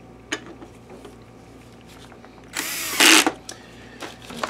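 A power screwdriver drives screws into an Epson Home Cinema 2150 LCD projector during a repair, giving one short whir and then a louder burst amid faint handling clicks and taps.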